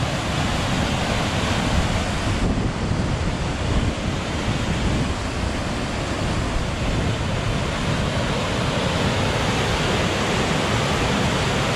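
Loud, steady roar of water rushing over a river weir, a dense continuous wash of noise with no pauses, close by and alone.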